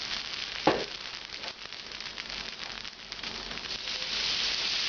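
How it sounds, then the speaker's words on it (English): Beef chunks for a classic French beef bourguignon sizzle and fry steadily in a hot pan as the next batch browns, a continuous close hiss with a sharp crackle early on and no talking. "proceed on with the next batch of meat in the same pan"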